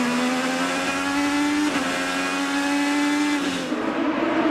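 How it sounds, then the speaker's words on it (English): Onboard IndyCar race car engine during the 2014 Grand Prix of Long Beach street race, a loud, steady high-revving whine that dips briefly at a gear change and again near the end, with no voices. "We ride aboard with Hunter-Reay. Have a listen"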